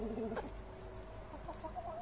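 Chickens cluck and murmur close by on a small farm, a few soft short calls over a steady low background hum, with no one speaking.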